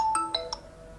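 A phone ringtone plays three quick bright chime notes in a rising pattern, clear and fairly close, over a quiet background hum.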